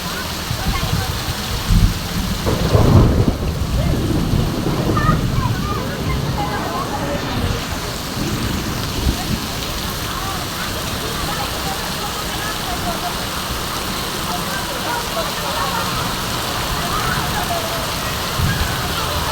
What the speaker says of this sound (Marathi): खूपच पाऊस आला इथं.